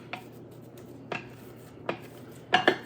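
Spoon scraping and clinking against a dish while chicken casserole is mounded up, four separate knocks spread out, the last two louder and close together, near and clear with no talk.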